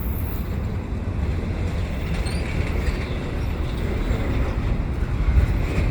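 CPKC eastbound double-stack freight train with ET44AC locomotives starting to move, a steady broadband rumble that holds level and swells slightly toward the end, close by and alone.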